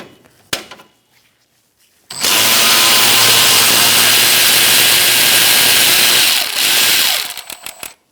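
A powered ratchet with a 10mm socket spins a bolt out on a 2002–2006 Honda CR-V, a loud, continuous whirring run of about five seconds after a couple of faint clicks, then a few tapering clicks.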